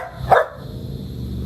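A single sharp, loud dog bark from an agitated female dog that has been biting, close by over a low background hum.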